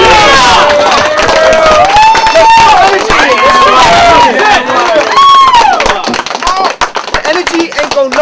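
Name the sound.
crowd cheering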